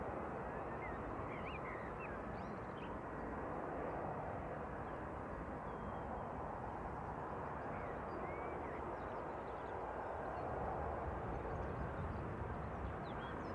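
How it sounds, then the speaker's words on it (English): Airbus A321neo airliner operated by SAS, arriving from Copenhagen, landing at Manchester Airport, with a steady broad engine roar held at a constant level throughout, heard from a distance outdoors. "Scandinavian coming in from Copenhagen. This is an A321 Neo."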